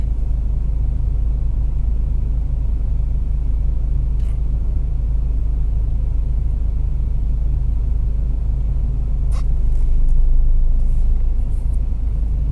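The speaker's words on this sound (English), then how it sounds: "there's so much traffic on the roads" Road traffic as a heavy, steady low rumble of passing cars, with a slight swell near the end as a vehicle goes by, loud and continuous without speech.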